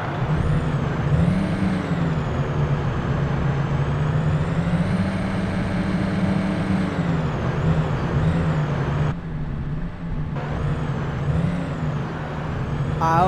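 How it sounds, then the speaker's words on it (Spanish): A heavy truck engine idling steadily to warm up in Euro Truck Simulator 2, a loud continuous low rumble with a short hiss partway through, alone without talk. "vamos a calentar el motor, ya que aprovechemos para calentarlo."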